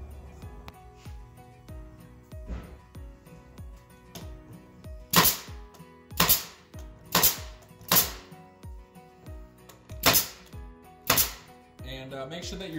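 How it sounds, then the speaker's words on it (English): A pneumatic nail gun drives nails into wooden flag boards, with sharp loud bangs arriving singly and in quick pairs at irregular intervals over a quieter background of music. "make sure that your depth isn't set too deep on your nail gun"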